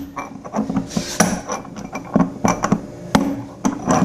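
A good-size hammer, used with a length of pipe, repeatedly strikes the outer bearing in the drum housing of a Kenmore H3 Whirlpool Duet washer, driving it out. The metallic blows come close and loud in an irregular series, with ringing clinks between them.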